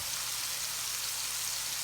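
Chicken thighs sizzle and fry steadily on a griddle, giving a constant close hiss with no pauses.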